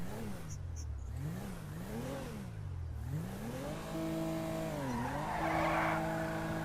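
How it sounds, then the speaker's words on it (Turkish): A Tofaş car drifts through the streets of Los Santos in GTA V, its engine revving up and down in sweeping waves with tire squeal rising toward the end. "Ve Los Santos sokaklarında yanlamaya başlamış"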